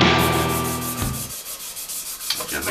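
Close, fast rubbing strokes of a 320-grit Abranet sanding strip on wood, a dry scratchy hiss that fades to lighter passes.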